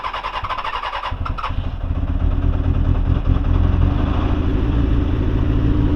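A 1991 Kawasaki ZXR400 motorcycle engine starting with the choke held on: a brief cranking whir, then the engine catches and settles into a loud, steady, close idle that grows slightly stronger.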